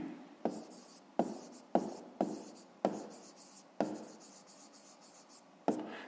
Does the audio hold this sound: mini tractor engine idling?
no